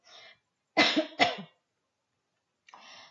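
Two quick, close coughs from one person, fairly loud and near, with short quieter noises before and after and silence in between.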